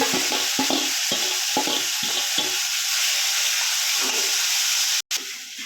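Brinjal pieces fry in hot oil seasoned with asafoetida, a steady broadband sizzle with several short scraping stir strokes early on, then a brief dropout near the end.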